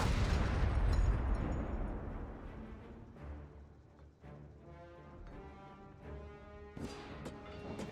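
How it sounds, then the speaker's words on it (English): Panzer tanks firing in a Company of Heroes 3 battle: heavy booming cannon blasts and rumbling explosions, loudest at the start, then trailing into scattered distant impacts and a sharp burst near the end. "Taking fire from Panzers here"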